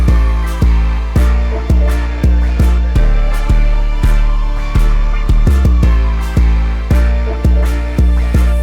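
A bouncy Baton Rouge style trap beat made in FL Studio, built on a heavy 808 bass that hits in a steady rhythm with each note swelling and decaying, loud and up front with no talking.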